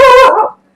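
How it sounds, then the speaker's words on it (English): A dog gives a single loud, close bark that cuts off sharply into silence. "I'm sorry about the dog."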